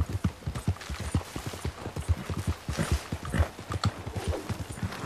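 Hooves of a galloping horse in the video game Red Dead Redemption 2 Online, a fast, steady, rhythmic clip-clop of many close, punchy beats running continuously without a break.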